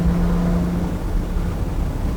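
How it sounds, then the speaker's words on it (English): Steady engine and sport exhaust drone from a 2019 Porsche 911 Targa 4 GTS with PDK under throttle, a continuous low rumble heard from inside the car without speech. "I'm gonna keep that sport exhaust on because why not?"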